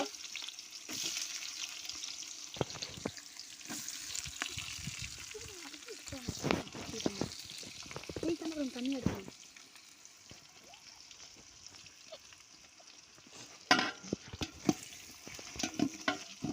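Onions frying and sizzling in hot oil for chicken biryani, with steady crackling and occasional stirring scrapes, while a person speaks briefly nearby.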